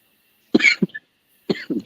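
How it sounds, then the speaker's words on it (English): A person coughs in two short bursts, close and fairly loud, with a brief pause between them and no talk around the sound. "Got a cough to get off."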